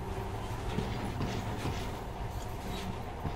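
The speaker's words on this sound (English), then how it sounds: "In the past, trains were ordinary things, but now, this monorail seems magic, doesn't it?" Monorail train from the video game Metro Last Light running steadily, a continuous low rumble with faint clickety-clack rolling along at an even level.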